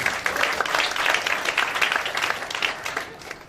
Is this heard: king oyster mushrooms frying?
no